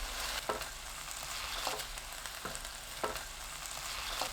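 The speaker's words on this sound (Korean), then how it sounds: "국간장 반큰술, 멸치액젓 반큰술 넣고 센 불로 40초 볶아주세요." Crown daisy greens stir-fried over high heat with soy sauce and anchovy sauce sizzle steadily, while scraping strokes from a spatula recur about once a second, close and alone.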